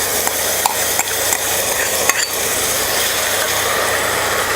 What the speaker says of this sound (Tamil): இந்த ஆனியன் நல்லா கோல்டன் ப்ரௌனாக நல்லா வதங்கணும்